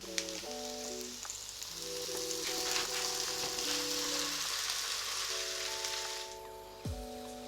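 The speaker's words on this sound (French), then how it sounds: "je vais étaler un peu de matière grasse dans mon gaufrier. Et c'est parti pour la cuisson." Waffle batter cooks in a greased waffle iron with a soft, constant sizzle. Background music plays over it, and the sizzle fades near the end.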